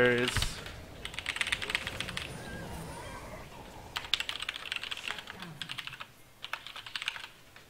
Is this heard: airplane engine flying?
no